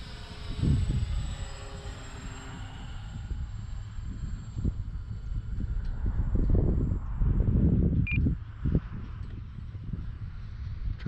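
A Dynam C-47 radio-controlled model plane flying overhead, a steady, fairly faint engine drone that lasts the whole stretch, with gusts of wind and low rumbling handling noise close by.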